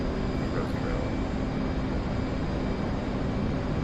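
Steady, droning aircraft engine of a plane in flight in the DCS combat flight simulator, a constant even hum with a faint tonal whine, no change in level throughout.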